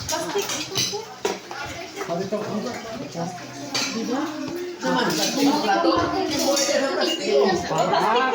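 Plates and dishes clink and clatter as they are handled, a steady run of close kitchenware knocks under nearly constant nearby talking and household chatter.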